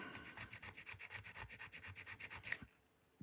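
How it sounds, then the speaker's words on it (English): A file rasps back and forth across the top surface of a Guarder Glock 26 airsoft gas-blowback slide, with steady rhythmic strokes close up, ending in a sharp tap and then silence. "Now I'm just taking off the top surface here."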